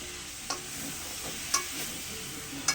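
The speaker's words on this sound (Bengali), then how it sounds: "আদা লঙ্কাটা কষানো, এবার দিয়ে দিলাম সবজিগুলো" Vegetables tossed into ginger, chilli, turmeric and sugar frying in a pan, giving a soft steady sizzle with a few sharp clinks of a utensil against the pan.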